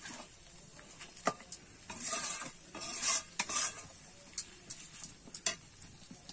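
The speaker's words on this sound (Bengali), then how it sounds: "এবার ভালো করে কিন্তু আমি চিকেনটা কষিয়ে নেব।" Chicken pieces are stirred and sautéed in a pan for a spinach chicken curry, with soft scraping strokes and a quiet, steady sizzle, fairly faint and close with no speech.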